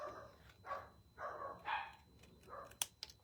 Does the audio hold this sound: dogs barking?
yes